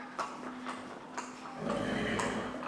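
A Shetland pony neighs faintly a few times at a distance, with soft background noise and no clear talking.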